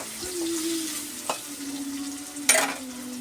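Strips of pointed gourd and potato, cut lengthwise, sizzle steadily in a frying pan, with two sharp stirring scrapes cutting through the constant hiss; no voices.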